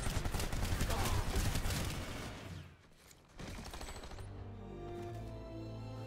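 Rapid automatic gunfire from the online shooter PlanetSide 2 rattles densely for a couple of seconds, fades briefly, then returns as a lower, steadier mix of shots and game noise.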